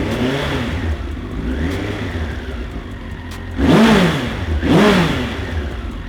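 A Suzuki Bandit 1200 motorcycle engine with a freshly fixed carburettor running at a steady idle, then revved sharply twice in quick succession with rising and falling roars.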